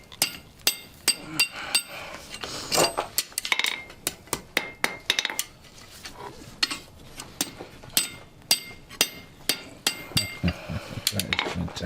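Sharp metallic hammer strikes on metal at a blacksmith's forge ring out in irregular bursts, some quick runs of blows and some single hits, close by and fairly loud.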